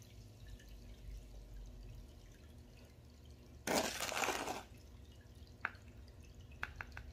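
Water from a tipped prospecting pan holding Lynx Creek paydirt, a short splashing pour followed by a few sparse drips, close but soft over a low background hum.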